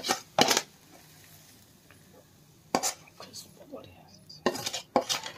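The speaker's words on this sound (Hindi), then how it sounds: "साग को काढी दबा हम प्लेट रे" Metal utensils clink and scrape against a pan and plate as cooked sunsunia saag is served out, with a few sharp clatters spread across the moment and quiet gaps between.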